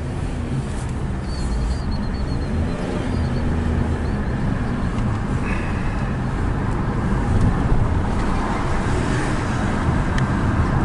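A Nissan Rogue with a JF011E CVT fitted with a TransGo flow control valve, driving at around 25 to 40 mph, giving a steady broadband road and engine drone throughout with no talk.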